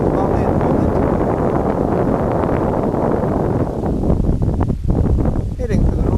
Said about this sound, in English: the wind is coming down the valley at the moment